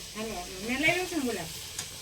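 Dry vegetable bhaji being tempered in hot oil gives a steady sizzle through two seconds, with someone talking over it at close range.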